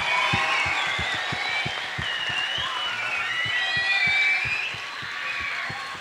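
Loud, sustained applause and cheering from a crowd of students at a green school event, with whistles and shouts rising above the clapping throughout.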